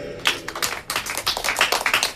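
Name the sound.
congregation clapping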